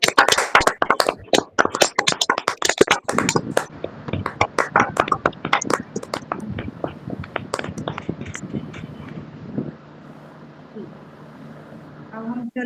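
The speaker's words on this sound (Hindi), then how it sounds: "ये जोरदार ताली के द्वारा परमेश्वर को धन्यवाद।" Energetic clapping at a church children's declaration day event, sharp individual hand claps from a nearby crowd, irregular and strong for several seconds before tapering off into quieter room sound.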